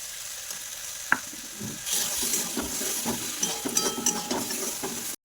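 Bottle gourd is sautéed in a pan with sugar, coriander powder and sesame paste, giving a soft, steady sizzle with repeated scraping stirs that grow busier partway through before ending abruptly.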